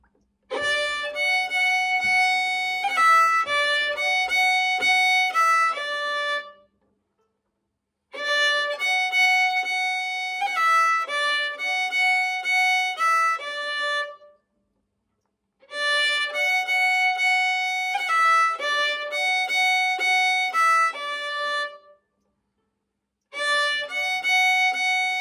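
Second phrase of the jig First Judy Calahan, part B, played as a bright melodic instrumental line in lively jig rhythm, repeated in several sections separated by short silences.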